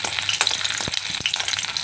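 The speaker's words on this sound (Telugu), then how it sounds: "కొత్త తాలింపు పెడుతున్నాను చూడండి వెల్లుల్లిపాయలు అండి" Close, steady sizzling of garlic frying in hot tempering oil, with crackling pops and a few stirring clinks, no talking.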